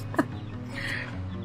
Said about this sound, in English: Chickens are trying to get in our hoop house.